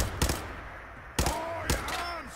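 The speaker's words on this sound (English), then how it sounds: "here we go with a goddamn rocket launcher again." Rocket launcher fire in the video game Fallout 4: three sharp, loud blasts in quick succession, each leaving a short rumbling tail, with a voice briefly heard between them.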